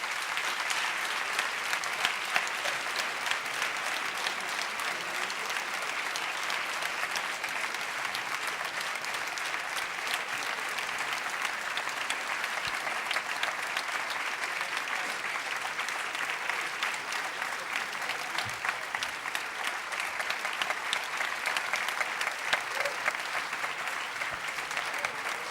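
Sustained applause from a large audience, a steady dense wash of clapping that holds at an even level throughout.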